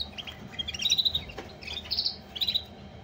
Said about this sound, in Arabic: انا بصفهن قاعد والطيور تقرا